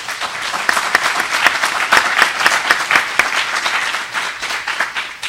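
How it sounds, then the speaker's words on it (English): Sustained, fairly loud applause fills the room for the panelists at a police-community reconciliation forum, many hands clapping steadily with distinct sharp claps standing out near the front. "You give them a round of applause, please."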